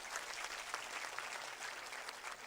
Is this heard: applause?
yes